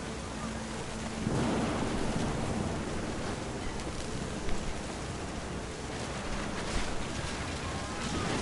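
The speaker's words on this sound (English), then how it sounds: "The thunder sounded much too close and full of angry power." Thunder rolling through a rainy storm in the game What Remains of Edith Finch, a steady wash of rain with deep rumbles building and swelling, loud and close, with no voices.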